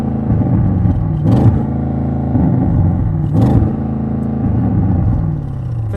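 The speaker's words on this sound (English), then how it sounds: "So you're going to rev it at traffic lights." An Audi RS7 engine is held at high revs and bounces repeatedly off a soft limiter, the droning note dipping and surging in a loose rhythm, loud and close.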